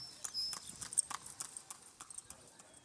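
Horse hooves clip-clopping on a street in Cuba, a steady trotting rhythm of sharp, faint strikes at a modest distance with no talk over them.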